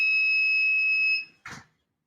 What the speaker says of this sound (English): that is a sad beeping sound